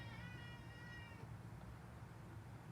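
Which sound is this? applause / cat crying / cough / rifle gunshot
cat crying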